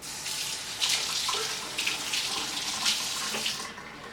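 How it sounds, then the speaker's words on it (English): Water runs steadily from a kitchen sink tap while hands are washed under it, a close, continuous splashing rush with small surges as the hands move through the stream. "Let me wash my hands."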